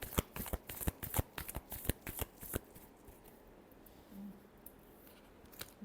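A deck of tarot cards riffled quickly: a fast run of crisp, close flicks and snaps that stops short, followed by quiet handling.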